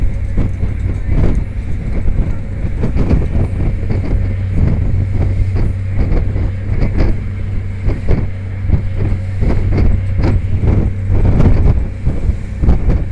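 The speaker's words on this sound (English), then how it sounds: "You have no idea how windy it is right now." Strong wind by the shore at Seagate in Brooklyn buffets the microphone in heavy, uneven gusts, with a low steady rumble underneath for the whole stretch.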